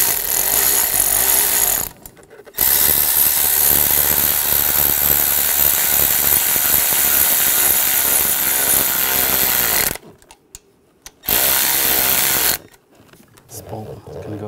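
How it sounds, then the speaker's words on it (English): Power ratchet tightening bolts on a 2006-2009 Mercedes-Benz E350 3.5L V6 engine during a knock sensor replacement, loud whirring bursts in several runs separated by short pauses, close up. "Tighten those down."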